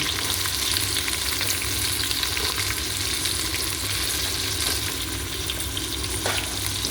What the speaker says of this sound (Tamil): இப்போ வெங்காயம் போட்டுக்கலாம் வாங்க.